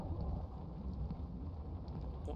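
Steady rainfall in the Devour video game, a quiet, continuous low rushing hiss with faint patter and no voices.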